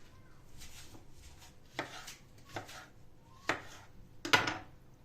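A few sharp knife chops through tomatoes on a cutting board, irregularly spaced, close and fairly clear against a quiet background.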